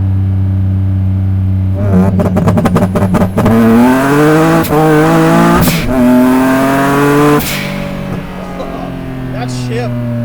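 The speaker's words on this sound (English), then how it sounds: "you heard them tires scrub on that ship" 600HP single-turbo Nissan 350z driven hard: a loud engine drone climbs through quick gear changes with rising pitch, while tires scrub with a sharp noisy burst midway, then the engine settles into a steady cruise.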